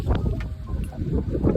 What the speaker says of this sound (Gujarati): વાવાઝોડો આવ્યો